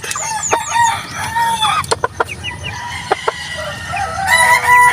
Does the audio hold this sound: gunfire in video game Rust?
no